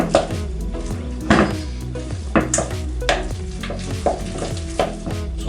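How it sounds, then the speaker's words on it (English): Mashed potatoes for a fish pie being mixed with a wooden spoon in a pot, giving repeated soft thuds and scraping knocks every second or so, close and clear, with no talking. "you can switch to a wooden spoon to just make sure that the whole thing gets mixed"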